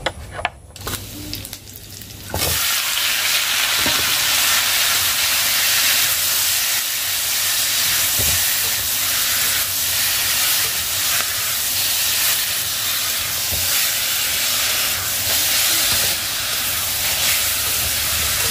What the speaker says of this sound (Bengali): ওইদিকে ডাল সেদ্ধ হয়ে এসেছে